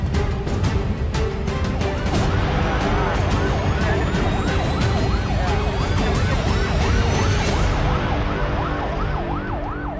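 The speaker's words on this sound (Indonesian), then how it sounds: "ambulans sudah siap di Bandara Komodo untuk mendapat tindakan medis lebih lanjut" An ambulance siren wails loudly and continuously at Komodo Airport during an emergency rescue drill, its rising and falling tone steady over dense traffic and street noise.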